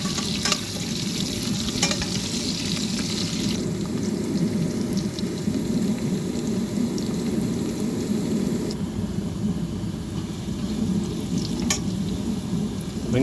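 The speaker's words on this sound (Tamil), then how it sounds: "நல்லா பூண்டு நல்லா வதங்கட்டும்." Garlic sautés in a pan with a steady, even sizzle and occasional scraping stirs, close and continuous throughout with no talking.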